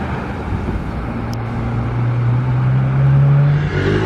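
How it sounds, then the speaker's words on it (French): A Ferrari 812 rolls slowly toward the listener from far off, its faint, steady engine hum gradually rising in pitch and growing slightly louder over a few seconds. "Une 812 qui arrive de très loin. Très doucement surtout."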